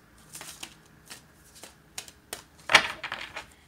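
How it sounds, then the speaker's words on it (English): Tarot cards are shuffled by hand in a series of soft, close riffling bursts with a louder flurry near the end, quiet between strokes. "These cards don't even want to shuffle right."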